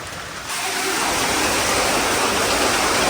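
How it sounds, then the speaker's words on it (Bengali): Rain starts abruptly and then pours as a loud, dense, continuous hiss on a rainy day, with no voices heard. "বৃষ্টি বৃষ্টি বৃষ্টি"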